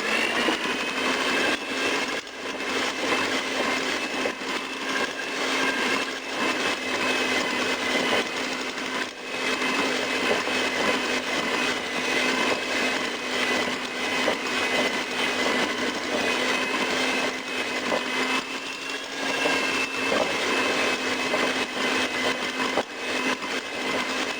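An electric mixer beats oil into flan cake batter, its steady whirring motor drone running loud and unbroken throughout with slight fluctuations in pitch as the beaters churn the mix.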